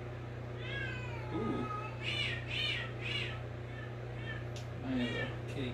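A very old house cat meows several times in short, squawking, fairly close cries, with a soft spoken exclamation in between over a steady low hum.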